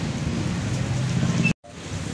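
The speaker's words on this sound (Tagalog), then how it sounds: "malakas po ang ulan" Heavy rain falling outdoors, a dense steady hiss that breaks off in a brief silent gap before resuming, with no one talking.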